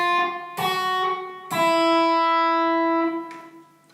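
Guitar picking a short tab passage: three separate plucked notes, the last two ringing out with clear sustain before fading, played alone with no talking.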